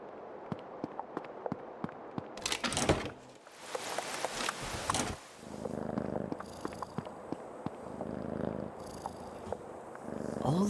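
A cat purrs in the horror adventure game Creepy Tale 2, a low continuous rumble with steady pulses, close and moderately loud, alongside scattered rustles and brief bursts of game noise.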